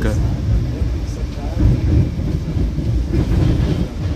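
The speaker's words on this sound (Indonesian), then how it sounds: "Kereta api Serayu dari arah Bandung dan Purwokerto teman-teman" A Serayu passenger train hauled by a CC03 locomotive rolls past at Cikampek station, a steady, heavy low rumble with wheel noise that stays loud and close throughout, with no clear clatter rhythm.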